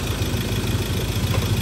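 A Ford Ranger engine idles steadily right after being restarted following fuel tank cleaning, a close, even, continuous hum with no voices.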